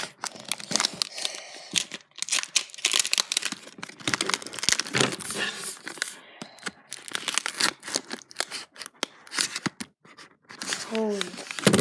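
A taped fidget toy package is torn and pried open by hand, with irregular bursts of tearing, crinkling plastic and scratchy crackles close by, while a voice talks over parts of it.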